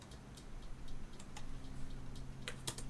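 Keys tapped on a computer keyboard during CAD modelling work, soft scattered clicks in uneven bursts, quiet and close against a steady low room hum.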